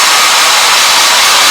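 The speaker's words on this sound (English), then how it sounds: "with the hair dryer" A hair dryer blows steadily at close range, a loud, even broadband whoosh with no talking.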